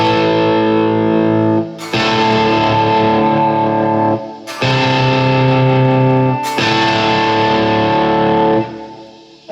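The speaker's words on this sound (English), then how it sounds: "moving on to the Tube Screamer. Just gonna play a couple of chords and see how this sounds" Electric guitar chords driven through a Tube Screamer overdrive plugin in a virtual rig, three loud sustained distorted strums, each ringing out before the next hit, with no talking.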